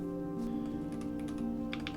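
Rapid typing on a YUNZII RT75 magnetic-switch keyboard, a quick run of light clicking keystrokes that bunch together near the end, over a steady tonal hum from game audio in the background.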